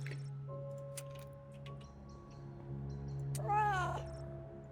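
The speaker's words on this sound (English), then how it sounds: "there's a black cat" A black cat in a horror video game gives a short, close meow partway through, set against a quiet bed of soft game ambience and faint small clicks and drips.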